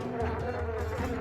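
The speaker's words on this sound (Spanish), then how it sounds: "encontró a un grupo de moscas que estaban dándose un buen banquete" Flies buzzing over homemade jam at a breakfast table, a steady droning hum that persists through the whole short moment, fairly close and moderately loud with no talk.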